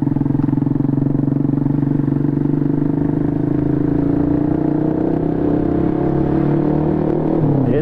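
Motorcycles fitted with aftermarket racing exhausts idle and rev at a street gathering before illegal racing, a loud steady droning engine note that climbs in pitch toward the end, close by.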